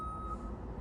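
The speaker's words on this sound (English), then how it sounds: "I've never heard a truck back up this long." A garbage truck reversing sounds a steady, high-pitched beep tone over a low engine rumble, heard faintly and briefly from some distance.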